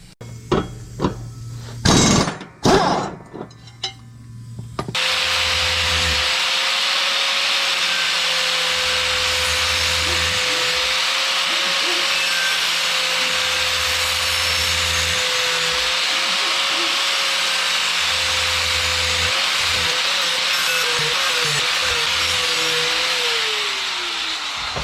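A riding mower blade is sharpened on a power tool: a few sharp knocks and clatters come first, then a loud continuous grinding whine runs steadily to the end.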